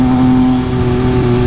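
An MV Agusta Brutale 800 RC motorcycle engine roars loud and close with a steady, even drone through its aftermarket exhaust, with no distinct pops standing out.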